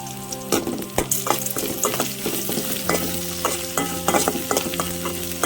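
Cumin seeds and garlic frying in oil in a pan alongside green chillies and chana dal, a lively close sizzle with frequent crackles and stirring scrapes throughout, no voices.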